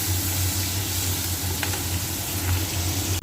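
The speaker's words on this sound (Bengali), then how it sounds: "ক্যাপসিকাম আর টমেটোটা দেখো ভাজা ভাজা হয়ে গেছে" Capsicum and tomato fry in a pan with a steady, close sizzle that keeps going, plus a couple of faint scrapes midway.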